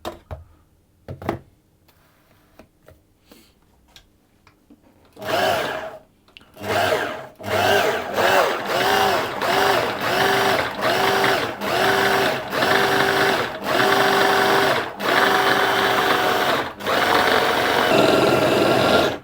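A food processor whirs in steady bursts as it mixes pastry dough for an apple and sultana tart until it clumps, the motor loud and close after a quieter start with a few clicks and handling sounds.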